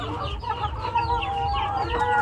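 Desi chickens cluck steadily while pecking at feed, a dense close chorus of overlapping clucks and short calls, with ducks nearby on the same farm.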